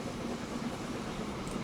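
A Fairlie steam locomotive running in Transport Fever, heard as a steady, faint, distant rumble with soft wheel rattle and no distinct beats, without voices.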